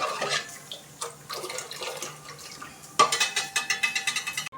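Water is stirred into cooked sago starch in a metal pot, with a spoon scraping and clinking against the sides and liquid sloshing, ending in a run of quick rhythmic stirring knocks.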